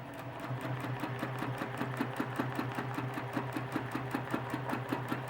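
A sewing machine stitching the spine of a custom-made quilted feather, a fast steady rhythmic needle chatter with an even motor hum underneath, close and uninterrupted with no voices.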